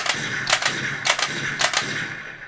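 Light gun shots fired at calibration targets in the arcade game Time Crisis: three sharp, evenly spaced bursts about half a second apart, ringing out over a steady background hiss.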